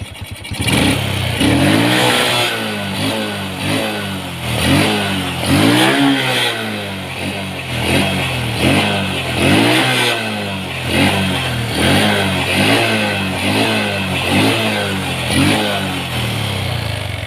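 A Honda Supra X 125 motorcycle engine revs loudly and close up, the throttle repeatedly blipped high then released in a steady rhythm of rising and falling surges over a rough idle, with no talking.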